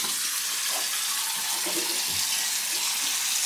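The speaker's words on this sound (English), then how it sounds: "Look, Jason, rinsing his mouth because Alouras was brushing his teeth." A tap runs steadily into a bathroom sink as a small child rinses his mouth after brushing his teeth, a continuous close hiss of flowing water with no break.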